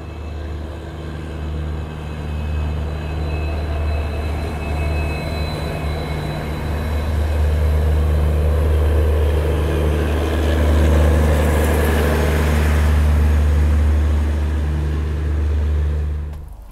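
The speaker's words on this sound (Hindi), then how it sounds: "फाइनली यशवंतपुर रेलवे स्टेशन हमारी ट्रेन पहुंच रही है" Diesel-hauled passenger train rolling into Yesvantpur railway station near Bangalore, a steady low rumble with grinding wheel and rail noise that swells louder midway and holds, with no talk.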